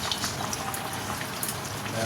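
Chicken gravy thickened with ground cashew and poppy-seed paste bubbles steadily in a pan, a close, continuous fizzing simmer with no pauses.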